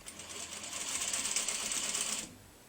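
A sewing machine runs a back stitch across a quilt top, giving a steady, rapid mechanical whirring and clatter for about two seconds before stopping abruptly, close and fairly loud, with no talking.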